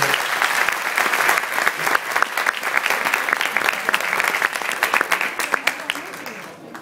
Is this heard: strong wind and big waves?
no